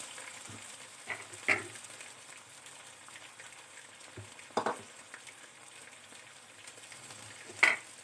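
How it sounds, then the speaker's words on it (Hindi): Ginger garlic paste fries in onions for a chicken and cauliflower curry, giving a soft, steady sizzle broken by a few sharp clinks and scrapes of stirring, with no talking. "अदरक लहसुन का पेस्ट डालने के बाद हमने इसकी भुनाई करनी है।"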